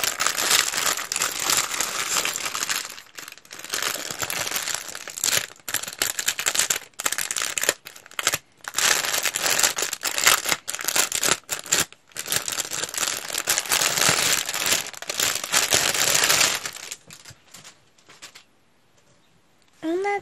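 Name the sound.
unwrapping packaging of a canvas print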